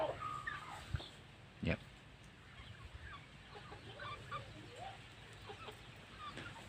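Domestic chickens clucking in short scattered calls over a steady background hum, with a couple of louder thumps; the birds sound moderately distant and fairly faint.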